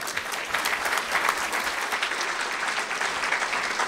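A room full of people claps steadily at a newspaper event, thick and even applause lasting about four seconds with no talking.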